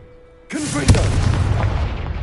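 A Confringo blasting spell in Hogwarts Legacy bursts out with a sudden loud whoosh and boom, followed by a short rumbling, crackling tail, close and prominent.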